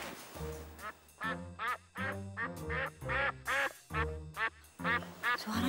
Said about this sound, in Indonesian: Suaranya bebek, bener.